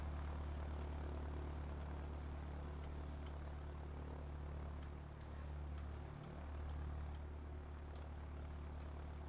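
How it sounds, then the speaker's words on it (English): The propeller engine of a Spitfire in a World War II airbase video game gives a steady, low droning hum with a small pitch shift partway through, continuous and moderately near. "And the first sortie of our Spitfire."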